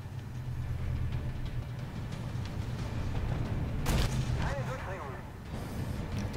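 A tank cannon fires once in the video game Armored Warfare. The sharp, loud boom comes mid-clip over a rumbling engine and battle ambience, while someone talks throughout.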